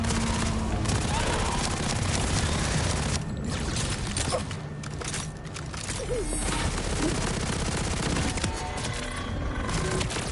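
SMG fire in Borderlands 4 rattles almost nonstop, dense rapid bursts filling the mix with crashes and impacts, broken by a brief lull before the shooting resumes.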